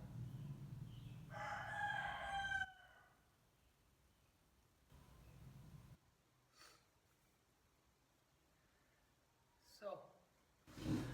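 A neighbour's rooster crows in the background, a moderately loud, drawn-out call with a few shorter cries later, mixed with voices talking.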